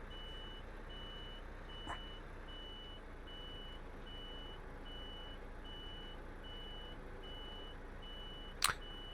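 Regular electronic reversing beeps from a truck turning around in Euro Truck Simulator 2, a steady repeating tone over low engine rumble, with a couple of brief clicks and no talk.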